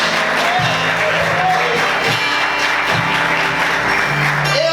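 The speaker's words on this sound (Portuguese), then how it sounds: "Aplauda o Senhor, queridos." A church congregation applauds at an Easter service, the clapping dense and sustained while voices and a tonal hum sound beneath it.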